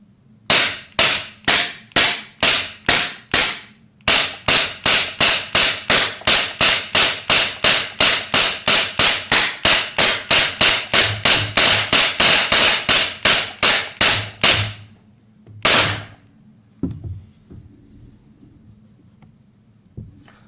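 A Poseidon Orion 2 gel blaster fires a long, steady run of sharp, loud snapping shots, some coming in quick double bursts, then a brief pause and a couple of final pops, with no talking.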